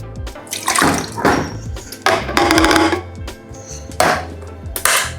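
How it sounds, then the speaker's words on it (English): Soaked basmati rice being rinsed with water, loud irregular splashing and sloshing in several bursts with brief pauses between, close up and without talk. "We're going to take it out, rinse it, and we're going to start again in the pan."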